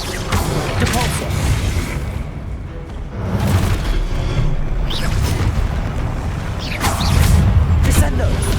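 In Hogwarts Legacy, a Depulso spell blast lands as a loud, deep boom with whooshing bursts, repeated across a few seconds amid continuous combat noise.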